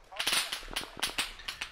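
Gunfire in the military shooter ArmA 3, in a Soviet special-forces mission set in 1988 Afghanistan: rapid sharp cracks come in short, irregular bursts at close range.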